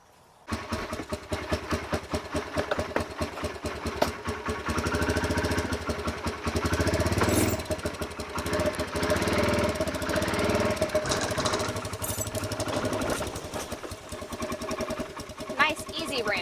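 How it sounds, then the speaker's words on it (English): Kawasaki Brute Force ATV engine running loud and close as it is driven down an easy ramp out of a Forest River toy hauler in the Rockies, a steady rough drone with revving swells throughout, while people talk over it. "Now we're going to unstrap the Kawasaki and drive it out."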